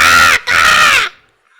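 A person imitates a crow's caw with two loud, harsh, nasal cries, the first brief and the second longer, separated by a short gap and ending in silence.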